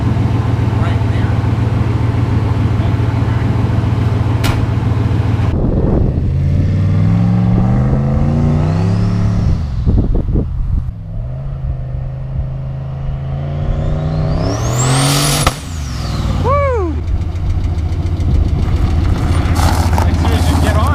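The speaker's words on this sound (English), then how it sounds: "As soon as you get on it, then it starts accelerating." A turbocharged LS-swapped car running a junkyard engine accelerates hard, its engine note climbing in a rising sweep, with a sharp turbo whistle peaking midway. The engine stays loud and close throughout.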